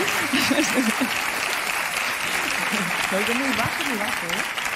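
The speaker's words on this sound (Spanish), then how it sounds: "Un aplauso, por favor." A studio audience at a Spanish afternoon TV show claps in a dense, continuous wash for several seconds while a voice talks on top of it.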